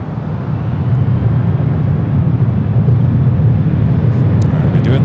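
Delta airliner, flight 2190, at Los Angeles airport: a loud, steady roar of jet engines heard from outside, with a voice talking over it briefly.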